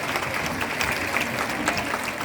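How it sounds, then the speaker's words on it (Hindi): An audience applauds at a women's empowerment program in an auditorium: a continuous wash of many hands clapping, even and sustained, heard from within the crowd at moderate volume with no clear talk over it. "इनके लिए एक बार जोरदार तालियां"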